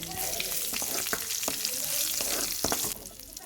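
Dried red chillies, curry leaves and turmeric fry in hot oil in a pan, a close crackling sizzle with spatula scrapes and stirring clicks that drops off near the end, with no talking.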